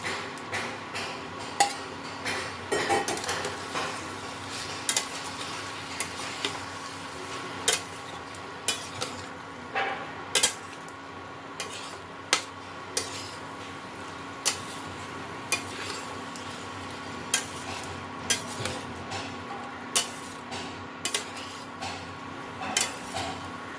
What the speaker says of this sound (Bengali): এবার এর মধ্যে আমি ভেজে রাখা চিংড়ি মাছগুলো সব দিয়ে দেবো।